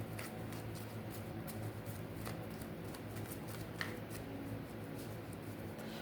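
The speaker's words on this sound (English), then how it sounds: "Let me shuffle." A deck of tarot cards is shuffled close by, a quiet, steady riffle and shuffle of cards running continuously with faint soft clicks and no talking.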